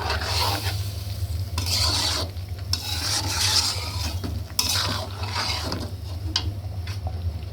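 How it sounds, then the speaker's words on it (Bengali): Curry stirred in a pan over high heat, with a steady low hum beneath repeated scraping and rasping strokes that come and go in bursts, close and fairly loud, no talking. "নাড়াচাড়া করে হাই হিটে 10 মিনিট রেখে দেব"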